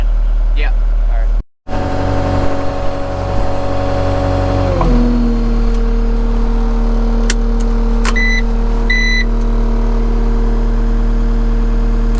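Vehicle engine idling loudly up close, then shifting pitch as it backs up to park, with a few faint beeps and clicks later while the motor keeps running steadily.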